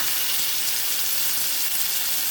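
Onions and tomato sautéing in a pan with turmeric powder, a steady, dense sizzle that stays even and close for the whole short stretch, with no voices.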